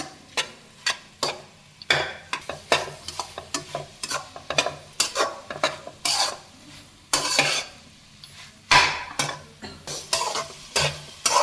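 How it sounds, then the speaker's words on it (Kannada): Okra being stir-fried with masala in a pan on low heat: repeated scraping and stirring strokes with a steady sizzle underneath, close and fairly loud, with no talk. "ಬೆಂಡೆಕಾಯಿ ಹಾಕಿದ್ಮೇಲೆ ಈ ಥರ ಚೆನ್ನಾಗಿ ಫ್ರೈ ಮಾಡ್ಕೋಬೇಕು ಮಸಾಲೆ ಜೊತೆಗೆಲ್ಲ ಚೆನ್ನಾಗಿ ಮಿಕ್ಸ್ ಆಗೋ ಥರ ಚೆನ್ನಾಗಿ ಫ್ರೈ ಮಾಡಿ"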